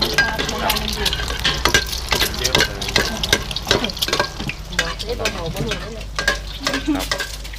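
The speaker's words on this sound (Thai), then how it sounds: "จะทอดไข่ดาว" An egg fries in a hot pan with steady crackling sizzle and scraping stir sounds, loud and close throughout in a Thai food shop kitchen.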